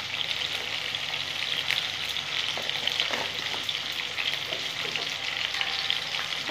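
Potatoes with a little turmeric fry in a pan, giving a dense, even crackling sizzle that holds steady throughout, with faint occasional stirring taps and no talk.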